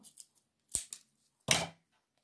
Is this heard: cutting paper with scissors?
yes